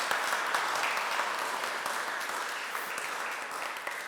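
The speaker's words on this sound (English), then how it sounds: "Can we give a big round of applause to these guys?" A church congregation gives a big round of applause, a steady, dense wash of many hands clapping throughout with no talk over it.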